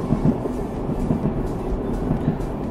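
A diesel railcar in the game Diesel Railcar Simulator runs with a steady low engine rumble and periodic rhythmic wheel clacks over the rails.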